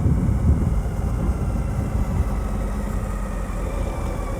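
A Suzuki V-Strom 1000 motorcycle engine runs while riding through the city in low gears, giving a steady, continuous low rumble with no talk.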